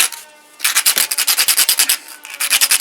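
Brass pen tubes for a slimline pen being scuffed with an abrasive before gluing, a close, quick rhythmic series of rasping rubbing strokes with a short pause in the middle.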